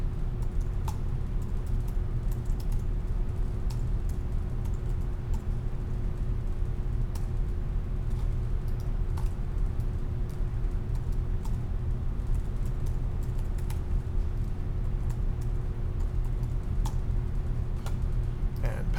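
Typing an email address on a computer keyboard, with quick, irregular soft key clicks scattered over a steady low background hum, close and fairly faint.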